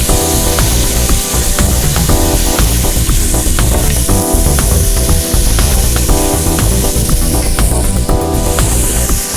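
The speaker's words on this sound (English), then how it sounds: "Just going to gently cook that till the onions sort of turn caramelized" Onions cooking gently in a pot for beef and barley soup, a steady bright sizzle with crackling pops running continuously and close up, with no one talking.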